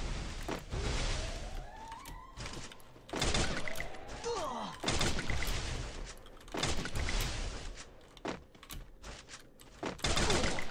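Bursts of gunfire in an online shooter game, a series of loud sharp shots in clusters with gaps between, an opponent firing while jumping around, no talk over it.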